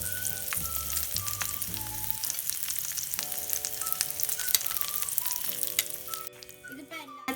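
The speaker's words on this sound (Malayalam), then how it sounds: "ഇനി ഇതൊന്ന് ഫ്രൈ ചെയ്തെടുക്കാം." A beaten egg mixture poured over capsicum fries in a pan for chicken katti kebab. It gives a strong, even sizzle that continues throughout, with light background music.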